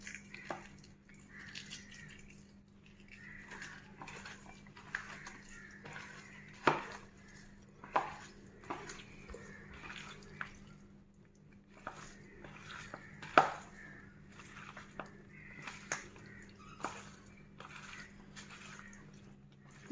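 A soybean salad with sesame and tomato is mixed by hand, giving soft, close squishing and light crackling with scattered sharper clicks against a quiet low hum.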